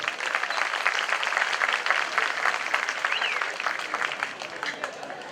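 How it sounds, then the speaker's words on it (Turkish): Crowd clapping at a village festival in a school courtyard in Kayseri, a continuous close wash of hands that holds steady, then eases slightly toward the end. "Onun adına sizden bir alkış bekliyorum."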